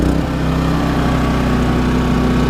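A Champion 3100-watt inverter generator runs steadily and close by, a continuous even engine drone with no talk over it.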